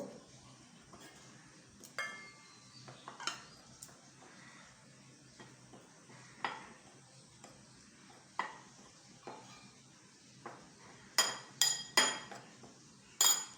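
A spoon mixes chili powder into a filling for stuffed kakrol, giving quiet, sparse clinks and taps against a bowl, with a louder cluster of clinks near the end and no speech.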